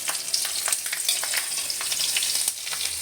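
Green chili and nigella seeds drop into hot frying oil for village-style shorshe ilish: a dense, steady crackling sizzle with sharp spits, loud and close, with no voice.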